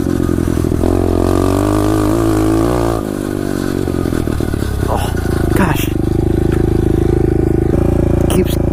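An SSR 125 pit bike engine drones loudly while being ridden in a backyard, revving up and down on an uphill attempt and then bogging, with someone talking over it.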